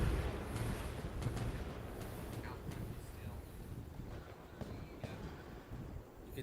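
Christmas fireworks go off outdoors, heard as faint, muffled, scattered booms and pops in the distance beneath rumbling wind noise on the microphone.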